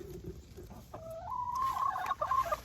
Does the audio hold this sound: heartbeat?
no